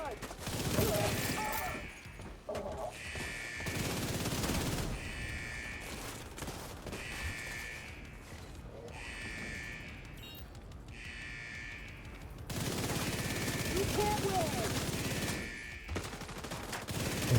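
Gunfire crackles in a shooter video game, rapid bursts of shots in repeated rhythmic volleys separated by short pauses, fairly quiet overall with a heavier burst near the end.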